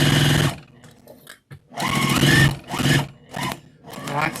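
A sewing machine runs in several bursts of loud, close mechanical whirring as it stitches fabric at a half-inch seam for a Christmas car trash bag, with short pauses between runs and one brief near-silence, no talking.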